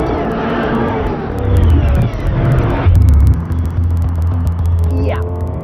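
Lexus LFA sports car engine roars and revs hard, with pitch sweeping as it accelerates and changes gear, loud and close before the note eases away.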